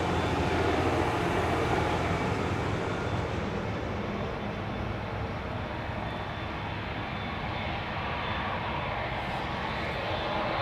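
KLM Boeing 787 Dreamliner jet departing Amsterdam Schiphol Airport, a loud continuous broadband engine roar that stays strong and slightly eases over the stretch.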